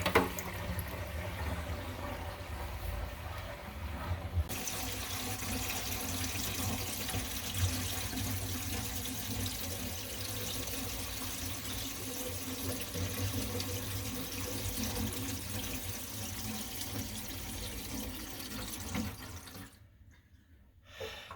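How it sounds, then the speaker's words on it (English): Running tap water steadily fills a leaking kitchen sink's compartments, a constant rushing hiss that shifts in tone partway through and cuts off near the end, close and alone. "give it a third, maybe a half full of water for a solid test."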